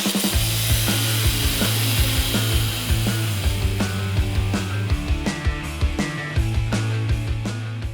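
Power tool cutting off anchors holding down a 10,000 lb shop building, a loud steady grinding hum broken by repeated sharp knocks and scraping strikes, close and continuous without speech.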